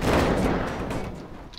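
A loud, close burst of Garry's Mod gunfire booms and crackles, then fades into a rumbling decay.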